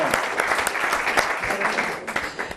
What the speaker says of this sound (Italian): l'applauso anche a loro